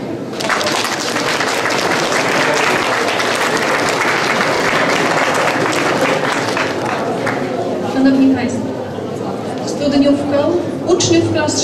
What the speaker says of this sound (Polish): Na tych rodziców wielkie brawa.